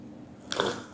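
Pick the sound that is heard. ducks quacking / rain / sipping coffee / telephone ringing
sipping coffee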